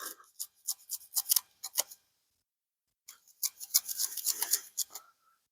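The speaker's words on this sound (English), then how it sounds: "You had to come in and cut some thicker rope" Rough, rasping strokes of a Skyraider Banshee knife sawing through thick rope, a burst of repeated cuts, a pause, then another series of quick scrapes.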